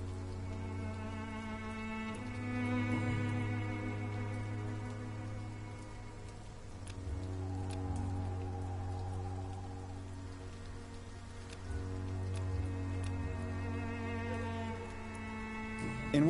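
Steady rain patters down in the video game Vampyr, a soft, even hiss with faint droplet ticks, layered over a low sustained hum and drifting tonal music; no talking.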